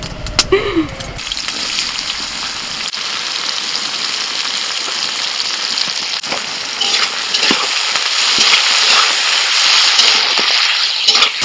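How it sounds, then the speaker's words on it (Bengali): Chopped onions fry in a pan with a pinch of salt, giving a loud continuous sizzle broken by spoon scrapes and stirring, the hiss growing stronger toward the end. "একটু লবণ দিয়ে দিচ্ছি তাড়াতাড়ি পেঁয়াজটা নরম হয়ে যায়"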